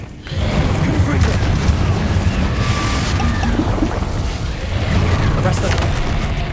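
Loud, continuous blasting and rumbling from fire spells cast in the Hogwarts Legacy video game, with booming bursts layered over a dense roar that never lets up.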